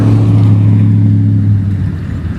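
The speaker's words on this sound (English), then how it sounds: "Oh, please don't have this car come by" A car rolls past with a steady low engine hum and tire drone, loud and close at first, then easing off toward the end.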